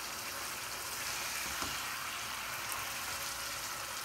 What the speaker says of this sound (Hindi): अब हम चिकन को इसी तरह 5 मिनट तक पकने देंगे स्लो से मीडियम फ्लेम पर